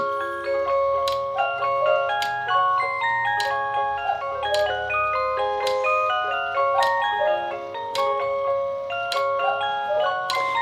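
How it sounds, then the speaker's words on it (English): A battery quartz cuckoo clock plays a bright chiming melody, its tones stepping in a steady repeating pattern with regular sharp accents, close and moderately loud with no talking. "we can check that the clock is going and counting the correct time"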